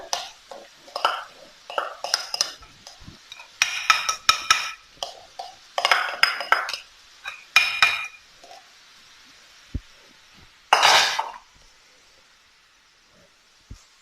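Grated carrot stirred into ghee in a pan for red carrot halwa, heard as bursts of scraping and clinking from a utensil against the pan, irregular and fairly close, with short pauses between strokes and no talk.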